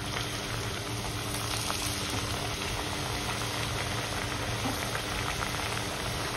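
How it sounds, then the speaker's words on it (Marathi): Chakli dough sizzles steadily in hot oil on a low gas flame, a constant dense bubbling hiss with no pauses and no talking. "आता ही चकली अशी हळूवार तेलात सोडायची आपल्याला"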